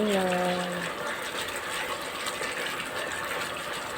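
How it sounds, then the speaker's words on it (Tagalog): Water gushes steadily into a cooking pan for sardine and o'dong noodle soup, a continuous loud pour lasting several seconds, with a brief voice at the very start. "Lagyan natin ng tubig para sa sabaw."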